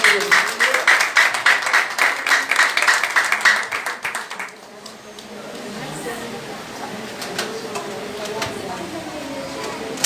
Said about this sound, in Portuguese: Dê um aplauso ao Senhor pela vida dele.